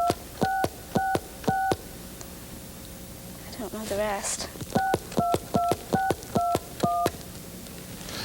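Telephone keypad touch tones beep in quick, evenly spaced bursts as a number is dialed, a pause with a brief voice speaking in the middle, then another run of rhythmic beeps.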